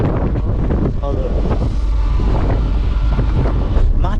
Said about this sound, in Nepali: माथिको डेकमा यति चिसो हावा छ कि कुरै छाउनुहोस्.